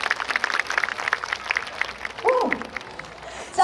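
An audience at an outdoor jazz big band concert in Taichung applauds with scattered, fairly dense clapping from a crowd, and a voice speaks over it partway through.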